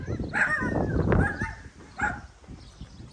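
A dog barks and yips in short bursts close by, several sharp calls spread across the moment, with a car being inspected outdoors.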